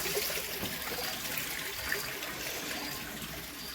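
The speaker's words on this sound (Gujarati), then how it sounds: "જો અટાણે પાણી ભરું હું બધેનું." Irrigation water flows across a cumin field in a steady, soft trickle and gurgle, fairly faint and continuous for a few seconds, with no voices.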